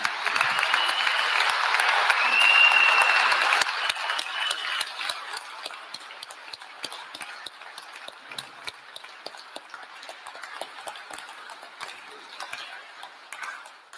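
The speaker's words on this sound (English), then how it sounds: "can we stand and give him a standing ovation and applause for having lived" A standing ovation at a memorial service in a cathedral: loud, dense applause that fills the hall for several seconds, then thins into softer, scattered clapping that carries on throughout.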